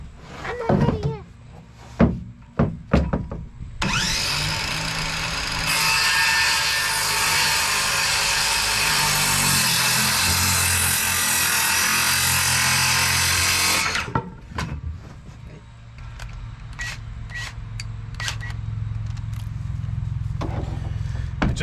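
Power tool cutting wood boards to length for a pig feeder: a loud, steady whine of about ten seconds in the middle, with clattering handling noises and brief talk before and after.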